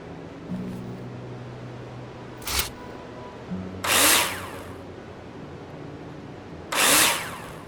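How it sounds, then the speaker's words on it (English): Power tool sounds from the video game Builder Simulator: a steady low motor hum with a sharp clunk, then two short bursts of a whirring drill driving screws, no talking. "screw them in with a drill"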